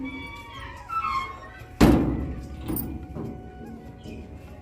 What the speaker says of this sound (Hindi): तो इधर पहले दरवाज़ा बंद कर देते हैं।